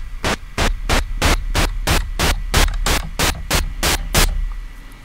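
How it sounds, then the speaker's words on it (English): A record player static sample triggered as an MPC keygroup gives a steady crackly noise bed, chopped into about thirteen evenly spaced bursts of bright hiss in a fast regular rhythm, close and loud. "I'm going to throw the static sample here"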